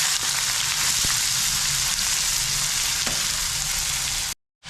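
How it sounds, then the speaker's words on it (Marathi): Onion sautéing in oil in a kadai for a quick brinjal bharit: a loud, close, continuous sizzle with faint spatter pops, cutting off abruptly into silence just before the end. "आता मी कढईमध्ये तेल टाकलेलं आहे कापण्याकरता तर आपण हे कांदा याच्यामध्ये थोडा परतून घ्यायचा"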